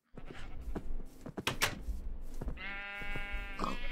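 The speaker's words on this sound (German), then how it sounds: "ich lock mal die Schafe hier weg" Several short clicks and knocks come first, then a single drawn-out sheep bleat from the game Minecraft rings out clearly near the end.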